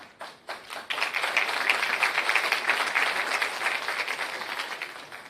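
Applause from an audience at a training course graduation ceremony, a few separate claps at first and then steady, dense clapping that carries on alone.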